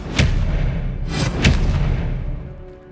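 Two sharp spell bursts from a wand duel in Hogwarts Legacy, each a bright crack with a booming low tail, about a second apart over a steady rumbling game background.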